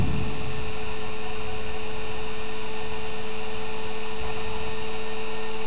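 Experimental three-phase motor spinning at 1,000 RPM with each of its three coils on its own phase circuit, giving a steady, close electrical hum with a rattle from the small table shaking beneath it.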